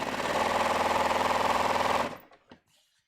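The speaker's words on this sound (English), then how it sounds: "we're just going to sew this down. So see, I'm just sewing this half inch" A sewing machine runs steadily while stitching down a pants seam, giving a loud, close, rhythmic mechanical chatter for about two seconds. It then stops, followed by a faint click and some soft handling noise.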